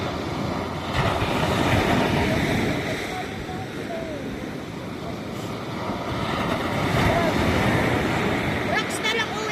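Strong ocean waves surge and wash continuously close by, a broad roaring rush, with voices talking and exclaiming over it.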